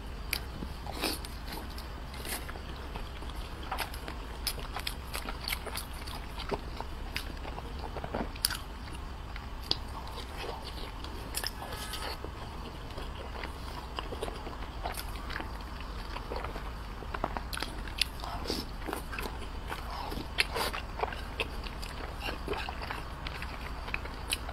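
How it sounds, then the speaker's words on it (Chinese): Someone eats pork and egg filled dumplings, biting and chewing close to the microphone. The soft, moist chewing and occasional crunchy bites carry on steadily over a quiet low hum. "今天吃的是猪肉鸡蛋馅。"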